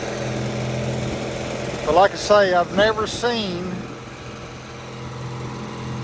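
A Murray garden tractor engine runs steadily at a low, even idle throughout, with someone talking briefly over it.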